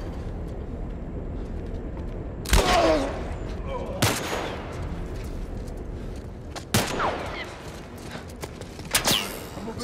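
Shotgun blasts in The Last of Us Part 1 during a dam fight, four loud sharp reports spaced a second or two apart over a steady background rumble.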